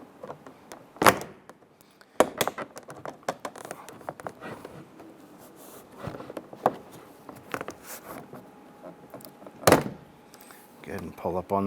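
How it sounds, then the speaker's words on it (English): Door panel being pried off a 2005-2010 Chrysler 300, with sharp plastic clip pops and thunks at irregular intervals amid scraping and rustling, close up and fairly loud. "I'm going to go ahead and grab that door panel."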